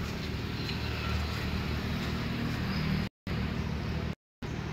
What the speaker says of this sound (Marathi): आवाज ऐका, गाडीचा आवाज ऐका।